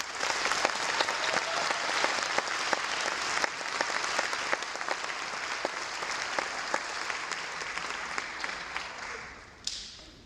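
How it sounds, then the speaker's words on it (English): At a graduation ceremony, an audience applauds warmly with dense, sustained clapping and a few sharper individual claps, tapering off near the end. "Let's go ahead and give these members a big round of applause."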